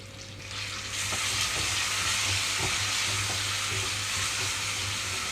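Raw mango pulp frying in a pan over a low flame, giving a steady, dense sizzle that swells after the first second and holds loud and even, with a few faint stirring clicks underneath.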